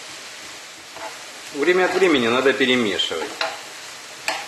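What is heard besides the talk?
vegetables frying in a pan for Ukrainian borscht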